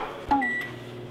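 A microwave oven hums steadily through a short moment of rice cooking, with a brief clunk and a couple of faint electronic tones near the start, moderately close and with no talk over it.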